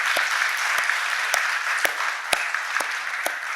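Church congregation applauding parents and their babies, a short burst of steady clapping with a few sharper individual claps standing out.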